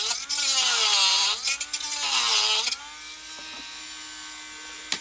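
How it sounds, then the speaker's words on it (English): A small handheld Dremel-type rotary cutter grinds a hole in a Commodore 64 power supply casing, producing a loud, wavering high whine that bogs under load, then stops and spins down quietly to a soft hum, close by. "now I'm just using a little handheld cutter here, like a Dremel type of thing, just to cut out my hole in here"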